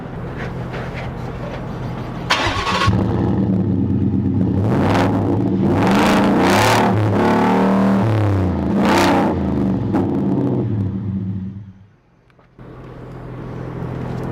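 A Roush F-150 pickup with a V8 engine revs hard several times, a loud, close, deep rumble swelling and dropping, then briefly cutting out before settling back to idle.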